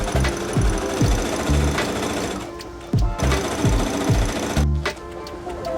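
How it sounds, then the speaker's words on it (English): A sewing machine stitches ribbon for a tutu, a loud, rapid mechanical chatter that runs in bursts with brief slowdowns and restarts between them. "And sew it all the way to the end."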